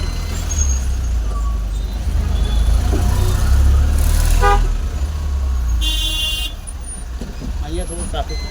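Busy Gujarat road traffic with rickshaws and bikes: a constant engine rumble from a moving vehicle, cut by two distinct horn blasts a couple of seconds apart, with a voice speaking over the noise.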